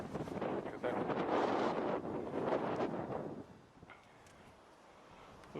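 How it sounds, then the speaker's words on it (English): Wind gusts roar against the microphone in a wood, loud and rushing for several seconds before easing into a quieter, lower hiss. "A little bit windy."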